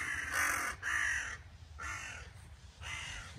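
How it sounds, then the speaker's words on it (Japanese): A crow caws four times in a slow, evenly spaced series, each call a loud, harsh, drawn-out cry close by, with quiet background between them. "チクロはカラスを捕まえたいようです"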